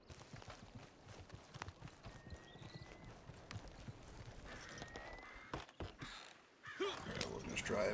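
Horse hooves clip-clop steadily as a horse-drawn hunting wagon rolls along in Red Dead Online, wooden creaks and rattling mechanisms mixed in, fairly quiet and close, with a louder clatter near the end.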